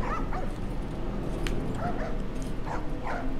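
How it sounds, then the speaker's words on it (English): Dogs in The Last of Us yip, whimper and bark in a few short, scattered bursts over a steady game ambience with low rumble. "they're selling dogs"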